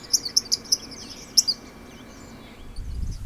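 Several sharp, bright bird chirps come in a quick run and then a lone later call at an Idaho wildlife refuge amid farmland crops, followed by a low rumble near the end.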